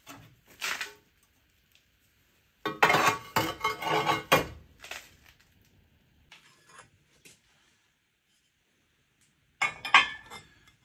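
Clattering clinks of kiln-fired ceramic plates knocking together in a few short bursts, with quiet pauses between them.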